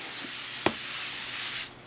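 A hand spray bottle mists an isopod enclosure in a steady broad hiss lasting over a second and a half, with a small click of the trigger near the start, close and alone.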